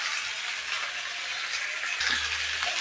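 Chopped garlic and ginger fry in a pan while being stirred, making a soft, steady sizzle with a brief scrape near the end.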